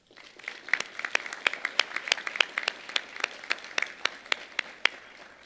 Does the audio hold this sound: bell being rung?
no